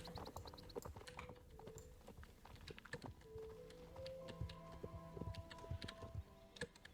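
Horse hooves clip-clop steadily while riding in the Star Stable video game, a rapid even patter under game music and effects with no talking.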